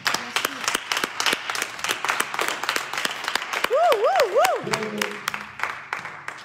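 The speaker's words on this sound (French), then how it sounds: "On va acclamer Jésus." Applause from a church congregation acclaiming Jesus, dense rhythmic clapping throughout, loud and near, with voices and a rising, warbling tone layered over the middle.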